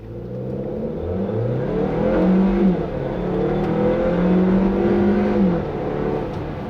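A 2016 Hyundai Tucson with the 1.6-litre turbo engine accelerates, its engine note rising in pitch, easing, then climbing again through a second rise, heard from inside the cabin as a steady, moderately loud drone.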